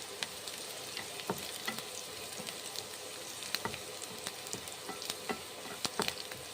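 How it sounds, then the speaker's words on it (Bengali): Onions fry in a pan for bitter gourd mash, a soft continuous sizzle with frequent light clicks and scrapes as a spoon stirs them, fairly quiet and close. "ভেজে নিচ্ছি পেঁয়াজগুলো"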